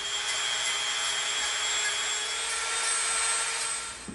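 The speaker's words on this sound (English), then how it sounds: "we're going to get our Dremel out, and we're going to begin tapering this thing, okay? Is we'll come in with our super rough bit." A Dremel rotary tool fitted with a rough bit grinds and tapers EVA foam, a steady, close, high-pitched motor whine with grinding texture that holds throughout, with no talk.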